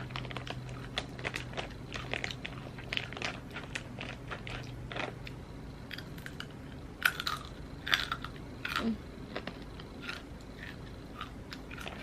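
Someone munching a crunchy snack close to the mic, a steady run of crisp bites and chewing crackles that get sharper and louder midway, with no talking.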